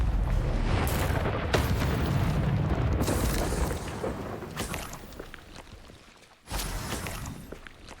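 A Confringo fire spell blasts in Hogwarts Legacy: a dense run of loud, rumbling booms and bursts fills the opening seconds, eases off, breaks for a moment near the end, then erupts again.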